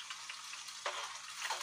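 Onion fries in a pan, stirred as it browns: a soft, steady sizzle with a couple of brief scraping swells from the stirring, fairly quiet and close, with no voices.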